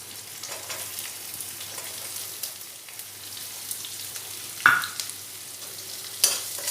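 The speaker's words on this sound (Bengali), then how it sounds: "পেঁয়াজগুলো একটু ভালোভাবে ভেজে নেব" Sliced onions and slit green chillies frying in a pan with dry red chilli and whole cumin, giving a soft continuous sizzle with occasional louder clatters of a spatula being stirred through.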